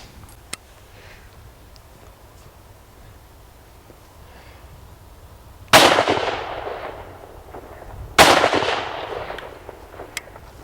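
Two loud, sharp shots from a Merkel double rifle fired outdoors, roughly two and a half seconds apart, each blast followed by a long decaying echo against an otherwise quiet background.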